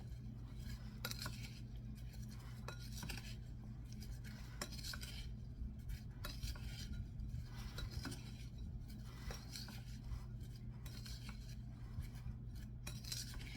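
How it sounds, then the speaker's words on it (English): Dry baking ingredients, including baking powder, are stirred together in a bowl for a blueberry cobbler, giving a steady run of scraping and light clinking of a utensil against the bowl. "So I'm mixing this all together."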